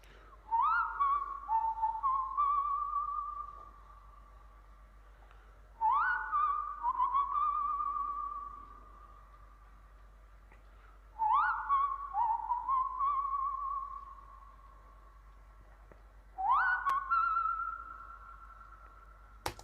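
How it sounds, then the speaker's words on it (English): Four separate whistled phrases, each a quick upward slide into a held, wavering tone, spaced evenly with quiet pauses between them. "this is how the whistling part of the sample came about"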